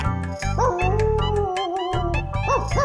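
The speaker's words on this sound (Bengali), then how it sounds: "এই রে, এই কুকুর ডাকছে।" A dog howls and yelps at night in a long, wavering, rising and falling cry with short yips, close and loud over a low steady background hum.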